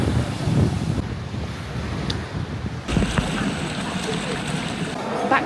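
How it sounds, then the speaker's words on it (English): Intense, crashing ocean waves roll onto a beach on Rhodes in a steady loud wash of surf mixed with gusting wind buffeting the microphone. "I love the sound of waves, and the waves were crazy and super intense."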